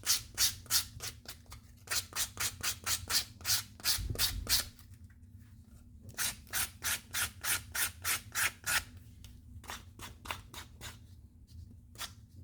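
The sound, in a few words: sanding leather wallet edge with coarse 200-grit sandpaper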